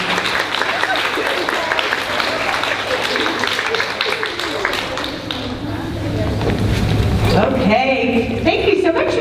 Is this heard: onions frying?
no